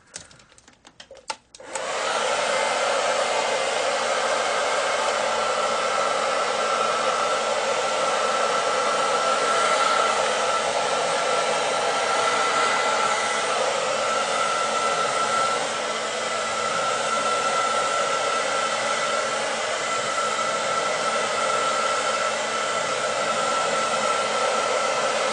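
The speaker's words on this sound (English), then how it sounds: "after I'm done blow drying my hair" Hair dryer blow-drying curly hair with a round brush, switching on after a brief pause and then blowing as a steady, loud, close whoosh for the rest of the time.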